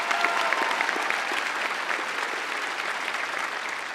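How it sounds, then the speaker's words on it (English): Steady applause from a large audience at a high school commencement ceremony, a fairly distant, even patter of many hands clapping without pause. "yeah, you can clap"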